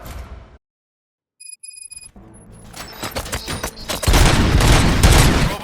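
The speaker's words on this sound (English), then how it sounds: "Gunshots? What's going on?" Gunfire in the RoboCop: Rogue City video game builds from sparse shots into a dense, loud barrage of rapid bursts after a brief silence and some electronic beeps.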